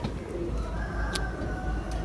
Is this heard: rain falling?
no